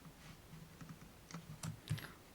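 Soft, irregular taps of computer keyboard keys during Photoshop editing, a steady scatter of light presses with a few louder strokes near the end, no talking.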